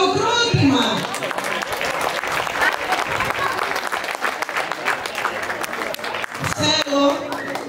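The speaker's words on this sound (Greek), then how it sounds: "θέλω ένα ξεστό χειροκρότημα" An audience at a museum event applauds steadily, a dense wash of many hands clapping that carries through the whole stretch, with a voice speaking over it at the start and near the end.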